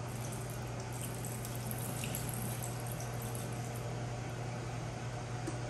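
Liquid from a can poured out into a kitchen sink, a continuous even splash and trickle that runs steadily for several seconds with no talking over it.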